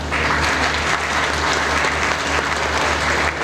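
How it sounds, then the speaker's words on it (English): Sustained crowd clapping at a formal business launch ceremony in Pakistan, dense and even throughout, a full room of hands applauding without pause. "A big round of applause as 𝐻𝐵𝐿 Services is formally launched in Pakistan."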